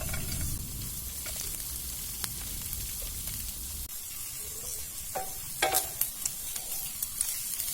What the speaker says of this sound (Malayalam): ഇതിലേക്ക് ഒരു 5-6 വെളുത്തുള്ളി പൊടിയായി അരിഞ്ഞത് ഇട്ട് കൊടുക്കാം